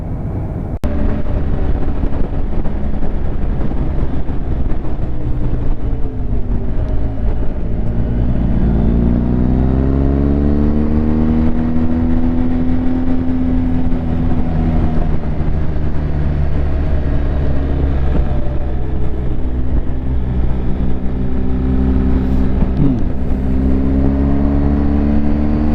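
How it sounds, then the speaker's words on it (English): A motorcycle drops a gear and engine-brakes, its engine note rising then falling in a sweeping drone under steady wind and road roar, loud and close throughout. "I'm now dropping a gear, I'm engine braking"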